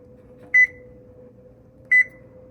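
An oven timer in a home kitchen sounds two short, bright electronic beeps about a second and a half apart, loud against a steady low hum, while a beef steak-bite dish bakes inside.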